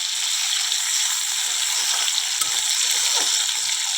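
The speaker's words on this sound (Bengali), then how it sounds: "একটু ভালোভাবে ভাজা হতে দেবো" Chopped onion, tomato and green chillies frying in hot oil give a steady, bright sizzling hiss that stays even throughout, with no talking.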